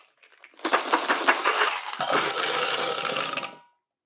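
Dice rattling as they are shaken in a cup or hand, a dense clattering burst lasting about three seconds, close and fairly loud with no talk over it.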